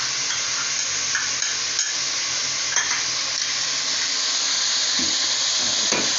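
Chicken pieces fry in a pot with garlic-ginger paste for a degi-style korma, a steady loud sizzle with occasional stirring scrapes and clanks of a spoon.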